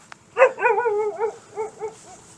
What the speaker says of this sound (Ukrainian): Так, тут є собака.